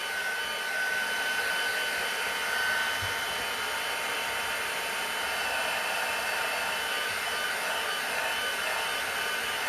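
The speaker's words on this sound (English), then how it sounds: "you don't have to dry it by a heat tool" A heat tool blows steadily for nearly ten seconds as it dries ink on a handmade Halloween card, producing a loud, even whirring roar with a faint tonal whine and no talking.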